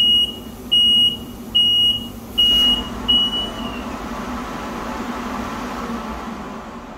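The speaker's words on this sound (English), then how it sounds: "it gets dirty and clogged, which has a nice little alarm here, audible alarm" A Kemper FilterMaster XL fume extraction filter unit sounds its clogged-cartridge warning: four or five evenly spaced high electronic beeps, loud and close, over a steady fan hum. The beeps then stop and the hum carries on alone.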